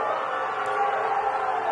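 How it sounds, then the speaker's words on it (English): Baseball crowd booing the umpires at a 6A high school consolation semifinal between American Fork and Riverton, a steady, sustained mass of disapproving voices from the stands with no single voice standing out. "You guys can hear the boos, I'm sure."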